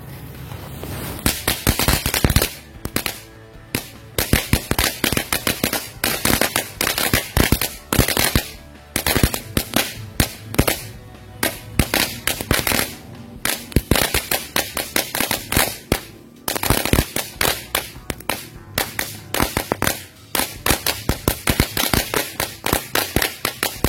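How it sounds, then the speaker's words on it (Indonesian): Magic Whip firecracker, a new-year petasan set off outdoors, crackling in a long rapid series of sharp loud snaps for over twenty seconds, bursts clustered with brief gaps between them. "selanjutnya kita nyalain mercon Magic Whip"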